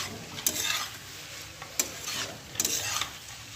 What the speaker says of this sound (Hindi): तो गाइस चलो अब इसको कर लेते हैं मिक्स अच्छे से।